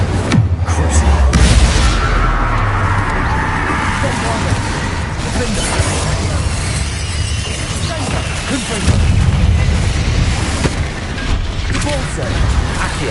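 Incendio fire spell cast in Hogwarts Legacy on PS5: loud, close, booming and crackling blasts roll on continuously, with a couple of heavier surges early on and again near the end.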